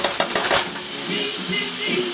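Ingredients dropped into hot oil in a pan fry loudly with sharp crackling spits and a dense, steady sizzle, close up, with a brief stirring clatter at the start.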